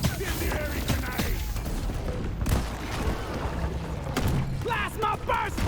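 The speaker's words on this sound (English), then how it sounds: "Incendiary grenade." An incendiary grenade in the game Deep Rock Galactic goes off amid a chaotic firefight, with bursts, thuds and crackling fire layered over continuous gunfire and creature noises, loud and dense throughout.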